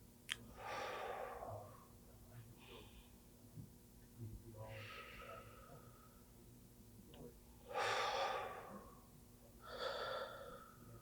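Slow, deep breaths during a guided breathing exercise, three or four long airy inhales and exhales spaced a couple of seconds apart, soft and close against a quiet room hum.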